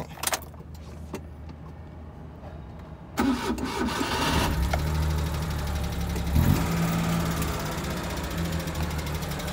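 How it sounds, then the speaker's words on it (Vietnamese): A 1996 imported Asia eight-seat vehicle's engine cranks and catches after a quiet stretch, then settles into a steady, close mid-pitched idle that runs to the end with a brief rev bump partway through. "sau đây mình sẽ nổ máy lên cho các bác nghe tiếng động cơ các bác nhá"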